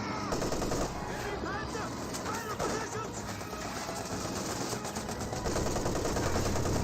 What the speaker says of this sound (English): And the MG34 does have a high penetration rate, so it does do some decent damage there